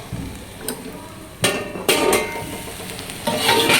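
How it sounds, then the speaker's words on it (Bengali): Snake gourd frying with onion and black cumin seasoning in a pan: loud, clattering spatula strokes and scrapes come in bursts over a light sizzle, close up. "এই যে একটা চিচিঙ্গে ভাজা পেঁয়াজ দিয়ে, ফোড়ন, কালো জিরে আর পেঁয়াজ দিয়েছি"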